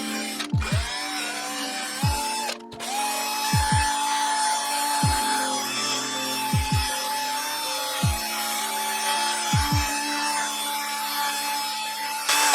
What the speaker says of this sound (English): Let's polish this up a little bit.